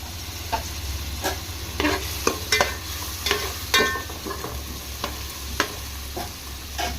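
Onions frying in a pan for Nellore-style small-fish curry, a steady sizzle underneath repeated sharp scrapes and clacks of stirring at close range, with no talking.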